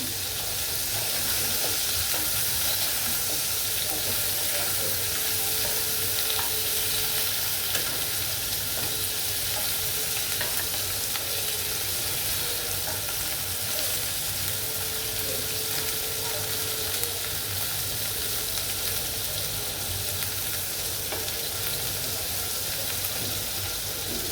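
Chicken sizzles and fries steadily in a hot pan for a Bengali mashed chicken dish, a continuous close hiss with occasional scrapes and stirring as the pieces are flipped, no voices.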